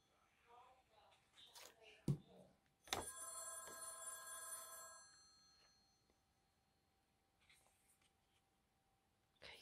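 A landline telephone rings once at home, a bright ringing burst of about two seconds that fades out, with someone talking quietly and small crafting handling noises before it.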